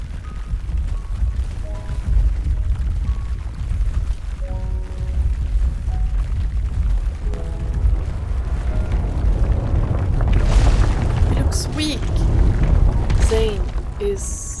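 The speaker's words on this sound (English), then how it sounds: "The tremors and rumbling from the world below grow stronger. They transform into ripples that destroy this facility." A facility in Love and Deepspace is torn apart by tremors from below: a continuous deep rumble builds steadily, with crashing debris and sharp metallic bursts piling up toward the end, under soft musical tones.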